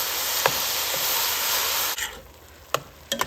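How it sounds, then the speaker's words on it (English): Ground beef, onions and garlic sizzle and hiss steadily in a pot over medium-high heat, then a few sharp scraping clicks of stirring near the end. "I'm gonna start by adding in my ground beef, my onions and garlic. Give everything a quick stir"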